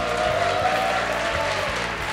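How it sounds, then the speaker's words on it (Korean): Steady applause from a large crowd of fans at a League of Legends esports match fills the air, dense and continuous clapping at a distance with faint voices underneath. "팬분들 다시 한번 큰 박수 부탁드립니다"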